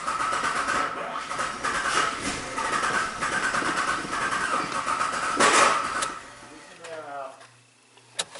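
A Jeep Liberty with a crank-no-start fault cranks without catching. The starter churns loudly and steadily for about six seconds, then cuts off, and a faint click follows in near silence.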